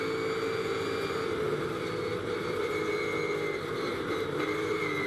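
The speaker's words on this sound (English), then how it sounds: "This is on board with the Mustang. Makes a great noise, doesn't it, this car?" A Ford Mustang GT3 race car's engine drones steadily from onboard at Spa during a British GT race, a continuous, moderately loud engine tone with no talk.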